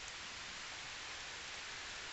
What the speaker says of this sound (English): And now just raining.